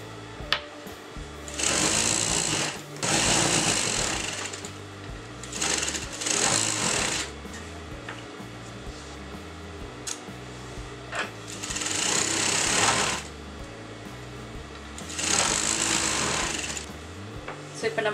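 A sewing machine stitching a blouse lining runs in several loud bursts of steady whirring, with a quieter hum between runs and no talking.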